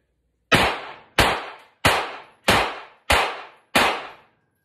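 Six loud, evenly spaced shots from a Glock G43x pistol during a bill drill at seven yards, each a sharp crack with a short decaying tail, fired alone at a steady rhythm.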